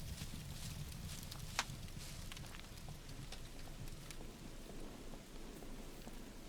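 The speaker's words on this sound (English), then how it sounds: "So let's head outside into the rain" Rain falls steadily outdoors in the survival game SCUM, a faint, even patter of drops with a few soft footstep-like taps and no talking.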